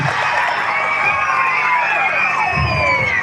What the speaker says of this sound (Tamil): பேராசிரியர் பழனி அவர்களுக்கு ஒரு பெரிய கரகோஷம் கொடுத்து அவரை அன்போடு வாழ்த்து